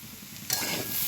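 Ground spices, turmeric, salt and sugar, are stirred in a frying pan for jhal bhaja puli pitha; a soft sizzle swells into a louder, steady hiss with a scrape partway through.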